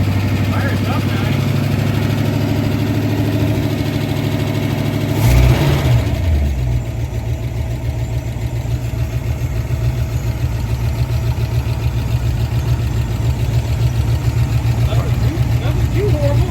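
A 1962 Ford Falcon engine that needs a valve adjustment idles steadily after start-up, loud and close with a rough rumble and one brief rev partway through.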